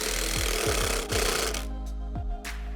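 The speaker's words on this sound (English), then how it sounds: "The Zackrabbit allows me to pre-drill and countersink." A Zackrabbit drill pre-drilling and countersinking into wood, a loud close whirring drive with several short rhythmic thumps as the bit bites and the workpiece shifts.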